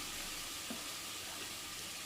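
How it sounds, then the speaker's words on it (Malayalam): Sliced onion and green chili sautéing in hot coconut oil in a pan, a soft, continuous sizzle with a faint stir partway through, steady and fairly quiet throughout. "എന്നിട്ട് ഈ വെളിച്ചെണ്ണയിലിട്ട് വഴറ്റിയാൽ മതി."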